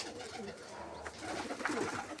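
Healthy pigeons coo softly while being fed grain, giving a few low, rounded murmurs and a brief flutter of movement, fairly faint and close, with no voices present.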